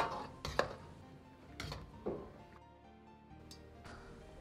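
A slotted spoon scoops tender braised lamb ribs out of a cooking pot, giving several close metallic clanks and scrapes against the pot at irregular intervals, with wet shifting sounds in between and no talking.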